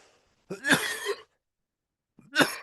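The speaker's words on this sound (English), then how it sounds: "Get used to my coughing because it's my life." Two short bursts of a person coughing and clearing their throat, separated by a quiet pause.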